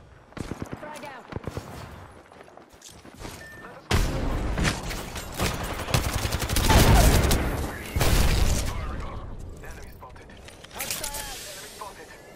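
A frag grenade explodes in a shooter game, bursting into a heavy boom with a long rumbling tail. Scattered gunshots come before and after it, and voices talk over the action.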